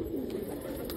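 Newly bought pigeons let out a brief, soft, low coo, steady and close, with no voices over it.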